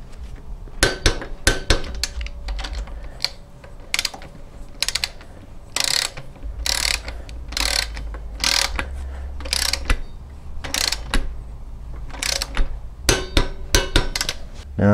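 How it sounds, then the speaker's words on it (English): Ratchet clicks and clanks from torquing the left axle holder nuts on a 1981 Honda Goldwing, heard up close as bursts of sharp metallic ratcheting separated by short pauses, with no talking. "Okay, so we'll torque the left axle holder nuts down."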